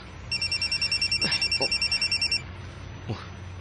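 Telephone ringing with an incoming call, a fast warbling electronic trill repeated in rapid pulses for about two seconds, close and clear, then stopping, with faint background noise and a brief thump afterward.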